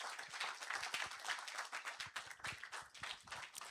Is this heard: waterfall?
no